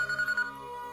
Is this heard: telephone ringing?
yes